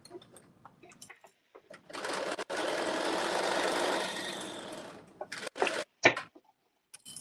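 A sewing machine stitches down a seam in one continuous run of about three seconds, a close, steady whirring drive, framed by scattered handling clicks and knocks before and after.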